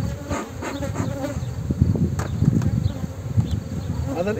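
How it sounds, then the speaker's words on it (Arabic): Honeybees drone steadily around a hive as smoke is puffed into it to drive them down, a dense close buzzing with faint background noise throughout. "ندخنوا بقوة لكي ينزل النحل الأسفل."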